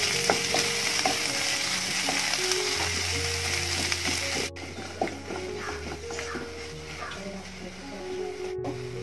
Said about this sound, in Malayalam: ഇനി അതിലോട്ട് 2 സവാള കട്ട് ചെയ്ത് ചേർത്ത് കൊടുക്കാം. ഇനി നന്നായിട്ടൊന്ന് വഴറ്റിയെടുക്കാം.